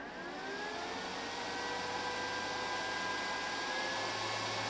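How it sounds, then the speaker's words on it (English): Cooling fans on an ALLPOWERS R600 portable power station whir up under a roughly 600-watt space heater load, a steady, close, continuous fan drone with faint tonal whine and no talk. "So you can hear the fans kicking on, obviously."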